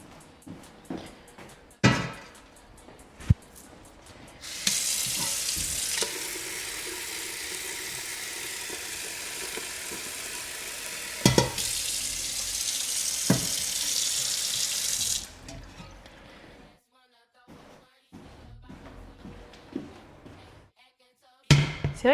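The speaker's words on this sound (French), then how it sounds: "Je vais remettre un peu d'eau au cas où." Water runs from a kitchen tap in a steady, loud hiss for about ten seconds, framed by clinks and knocks of pans while carbonara is cooked.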